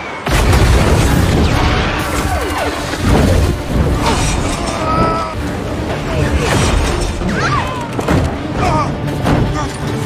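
Plane crashing and exploding in an action film among snow, heavy booms and crackling debris rolling on continuously and loudly, with a dense rumbling roar filling the whole stretch.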